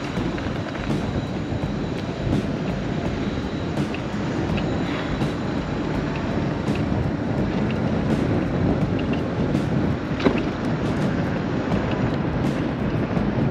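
Steady wind buffeting and a continuous engine drone during a scooter ride outdoors at Waco Mammoth National Monument on an overcast day, loud and unbroken, with faint clicks scattered throughout.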